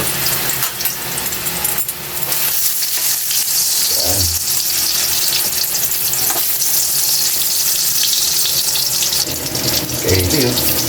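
Bananas frying in hot oil in a pan, a dense, steady sizzle close up throughout, with a few light clinks and scrapes of a utensil against the pan.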